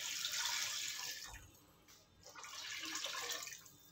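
About one and a half litres of water are poured into a cooking pot for chicken yakhni pulao, a soft, steady splashing stream with a brief pause midway.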